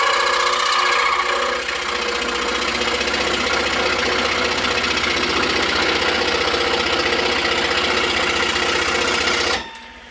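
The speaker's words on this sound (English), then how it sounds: "in order to make this cut, I'm just using a number 7 reverse tooth PGT blade, and you just want to cut outside the lines" A scroll saw cutting wood with a number 7 reverse tooth PGT blade, a steady fast reciprocating buzz held loud and close for about ten seconds before stopping abruptly.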